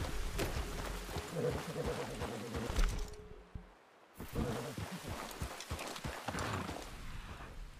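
Hoofbeats of a horse in a video game, a steady, fairly close clip-clop gait that briefly drops out midway, with a voice speaking over parts of it.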